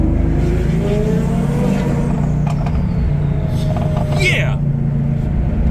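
Loud engine noise from a Corvette Z06 and a twin-turbo Audi R8 revving close by, with an Audi B7 RS following, a sustained roar with rising pitch sweeps, and voices calling out over it.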